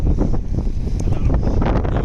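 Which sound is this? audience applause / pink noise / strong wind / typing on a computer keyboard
strong wind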